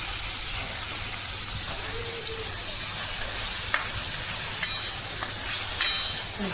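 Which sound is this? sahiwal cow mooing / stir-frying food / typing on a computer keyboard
stir-frying food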